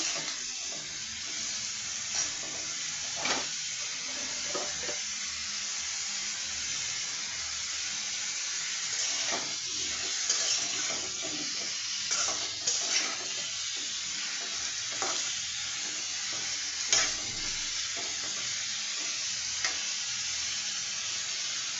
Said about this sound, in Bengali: আমি চাল কুমড়টা ভেজে নিয়ে রান্না করব।